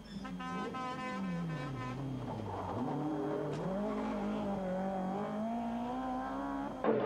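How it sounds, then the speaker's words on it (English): A BMW M3 rally car at full throttle on a rally stage, its engine note rising and falling steadily through gear changes, loud and continuous throughout. "Gregoire de Mevius trapte het gas onderin om bij de top te blijven"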